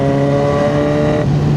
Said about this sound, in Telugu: Z900 full system Austin racing. Enjoy the sound.